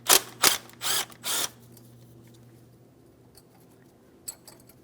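Four quick bursts from a power tool spin out a 10mm mounting bolt on a brake flex hose bracket of a GMC Sierra 2500 HD. Faint clinks and a steady low hum follow.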